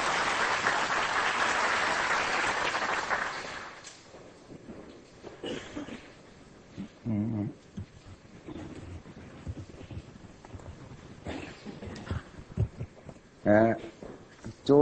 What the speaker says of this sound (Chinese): 下边我们大家就用热烈掌声欢迎南老师给我们做精彩演讲